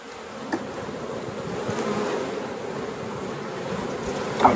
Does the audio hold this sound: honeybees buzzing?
yes